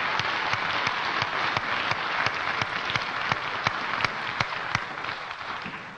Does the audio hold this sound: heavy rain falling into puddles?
no